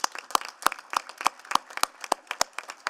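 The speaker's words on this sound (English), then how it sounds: "we'll do one more round of applause for you" Sparse, slow handclaps at a city council meeting, about ten separate claps spaced evenly, fairly close and crisp, with no talking.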